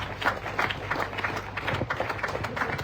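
A crowd at a graduation ceremony claps in a steady, scattered patter of many hands, moderately loud and unbroken, with a faint hum in the background.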